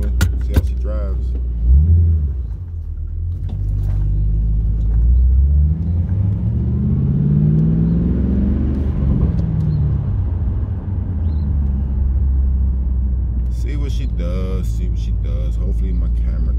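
A 2005 Ford Mustang GT on a short drive to work on a cool morning, its engine rumbling steadily from inside the car and rising through gears, with harmonic sweeps up and down and a little talk near the end.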